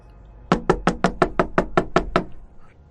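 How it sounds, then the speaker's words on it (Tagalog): Loud, angry knocking on the back door of a kitchen: about nine hard, evenly spaced bangs in quick succession, close and alone with no talk. "Nagulat pa ito nang marinig niya ang padabog na katok mula sa likurang bahagi ng pintuan ng kanilang kusina."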